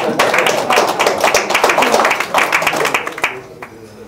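A crowd claps steadily in dense, lively applause at an international diplomacy and security forum, tapering off near the end, leaving a few scattered claps.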